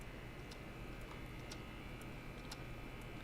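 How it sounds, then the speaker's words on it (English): Clocks tick all around in the video game Killer Frequency, a steady beat of faint, regular ticks roughly once a second over a constant room hum, with no talking. "clocks ticking everywhere"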